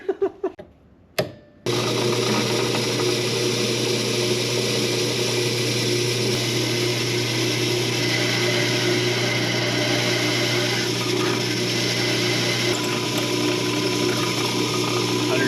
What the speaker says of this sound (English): Old drill press still gets the job done,